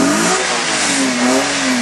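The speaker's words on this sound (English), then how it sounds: "Just listen to this engine, Phil, for a naturally aspirated PC." A naturally aspirated Mitsubishi FTO with a 2-litre V6 revs hard up close, a loud, smooth engine note climbing and holding high with a rising, wavering pitch.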